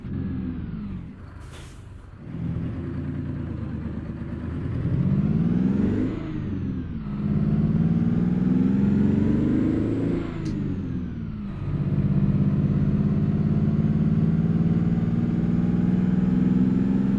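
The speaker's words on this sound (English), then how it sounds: "This 635 horsepower engine's doing decent." A 635-horsepower GMC General truck engine in American Truck Simulator hauls Fruehauf R.M. double trailers, droning steadily and loud with no one talking. It revs up and down through several gear changes, with one brief hiss like an air brake.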